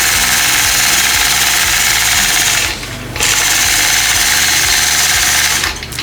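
Longarm quilting machine stitching a straight line along a ruler, a loud continuous rapid mechanical hum and rattle that stops briefly and resumes, close and steady.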